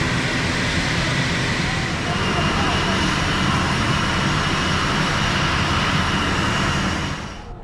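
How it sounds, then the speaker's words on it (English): Loud, steady roar of an airplane on the runway in Tuvalu during landing, a broad engine rush that holds near and constant for several seconds before easing off at the end. "the plane is about to land"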